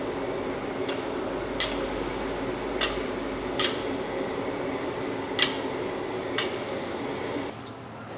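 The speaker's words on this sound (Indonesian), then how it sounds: "Oke, sekarang kita aduk-aduk lagi" A large pot of catering food with chopped spring onion and onion is stirred, the spoon scraping and clinking against the metal in sharp, irregular taps over a steady fan-like hum.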